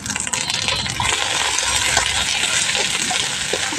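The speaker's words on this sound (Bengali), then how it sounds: "ভালো করে কষিয়ে নেব মশলাটা" Masala paste of chilli, salt and turmeric being fried and stirred in a pan, a steady close sizzle with scraping and clinking of the spoon throughout.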